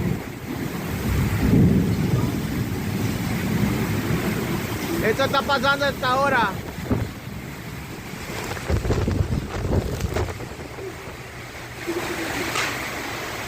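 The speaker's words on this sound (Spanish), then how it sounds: "Parece que es una tormenta o un ciclón" Strong storm wind gusts at Punta Arenas roar and buffet the microphone in a steady, blustery rush, with a voice speaking briefly over the noise.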